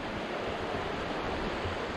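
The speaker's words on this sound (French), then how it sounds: "Il y a même une rivière ici." A river flowing in an outdoor spot in India, a steady broadband rush of water that stays continuous and moderately loud throughout, with no voices.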